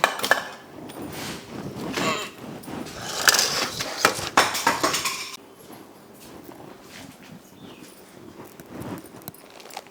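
Household utensils are gathered up and put away in a village home, with busy clattering knocks and scrapes for about five seconds before the handling turns quieter and sparser.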